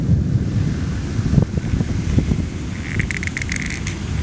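Storm wind roars over a creek after a tornado, a loud continuous rumbling buffet with gusts hitting the microphone, joined near the end by faint higher rattling.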